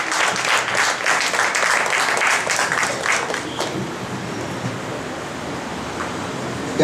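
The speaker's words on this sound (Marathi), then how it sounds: "त्यांच्यासाठी जोरदार टाळ्या" Enthusiastic applause from an audience at a Lavani folk performance, honouring an award-winning mother; steady, dense clapping fills the first few seconds, then thins out and fades into a quieter hall ambience.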